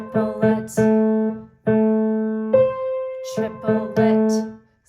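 The intro of a song played on piano, a few clear sustained notes in short repeated groups with brief gaps between them, close and solo.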